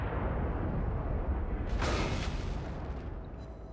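In a World of Warships naval battle, the battleship Tirpitz fires a salvo with heavy booming gunfire and shell hits, a dense rumbling wash with a sharp burst near the middle, moderately loud and without talk.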